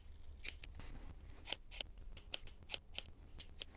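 Scissors snip through a custom motorcycle seat cover on a KTM 390 Adventure, sharp crisp cuts in a quick uneven run of about a dozen close, clear snips with no talk.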